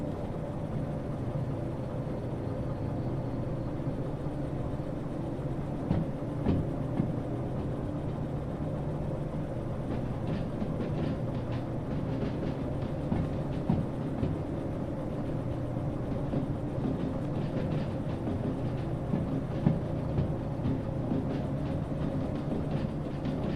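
A locomotive in Derail Valley rolls along the rails at low throttle, a steady rumbling drone with faint clicks and rattles throughout, no voices.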